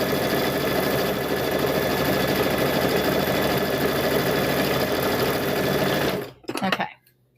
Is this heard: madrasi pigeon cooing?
no